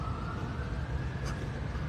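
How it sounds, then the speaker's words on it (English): Siren of an emergency vehicle passing outside on a quiet Sunday morning, a faint steady wail in the distance over low background hum. "There's a siren."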